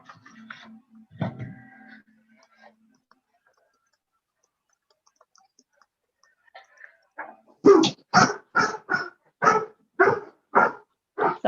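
Dogs bark in a quick run of about nine sharp, loud barks near the end, following mostly quiet room sound and a brief muffled bump at the start.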